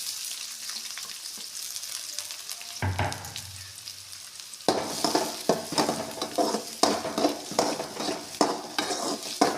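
Chopped onion hits hot oil in a pan for egg fried rice, bursting into a loud, steady sizzle after a brief quieter start, with repeated scraping stirs of a utensil against the pan.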